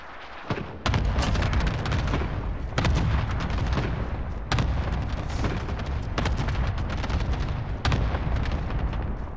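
Cluster strike artillery in a video game, a dense run of booming blasts and crackling detonations rolling on continuously at loud volume, with several sharper impacts standing out and no voices.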